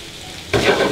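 Ackee and saltfish fry in a pan over a wood fire, a sudden loud sizzle bursting in about halfway through and holding steady, close up with no voices.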